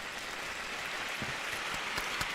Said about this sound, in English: you get the big clap